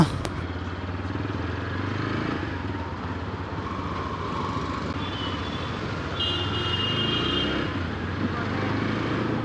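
A TVS Apache RTR 160 4V motorcycle engine hums steadily at close range while riding, a continuous drone with faint road and wind noise and no talk.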